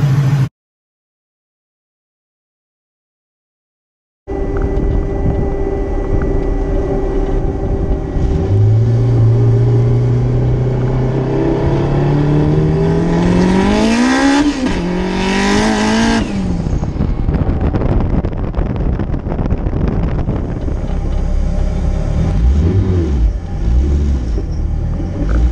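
A vehicle's engine running after a fuel system cleanup starts loud after a brief silence, revs with a rising whine, spikes sharply mid-clip, then settles into a rough, heavy rumble.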